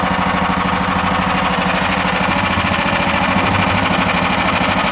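A tracked mud buggy's engine runs steadily at reduced throttle, a close, continuous chugging drone with a rapid, jackhammer-like rhythmic pulse.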